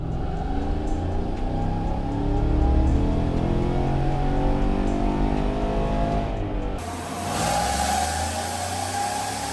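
A truck with an L83 V8 fitted with a BTR Stage 2 cam revs hard on a dynamometer, a loud, continuous engine roar that climbs steadily in pitch before dropping off near the end, with no talking.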